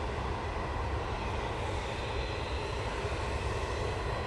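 Ryanair Boeing 737-800 jet engines at Manchester Airport, a loud, even rumbling roar with a broad hiss that holds steady throughout, with no voices.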